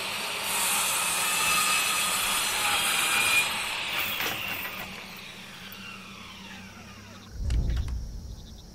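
A battery angle grinder in the horror game Father's Day whines steadily at high pitch for several seconds, then spins down and fades, followed by a low thud.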